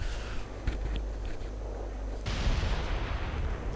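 Artillery fire in a WWII strategy video game sounds as heavy, dense booms and rumbling blasts that roll on continuously, with a sharper explosion surge midway through.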